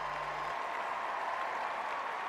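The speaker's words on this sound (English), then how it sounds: "The applause, by the way, is because Lee Duan of China, who just took a little bump to his head as he fell into the pit" Paralympic athletics crowd at the 2012 London Games applauding steadily in a large stadium, a broad continuous wash of clapping heard from a distance with no voices over it.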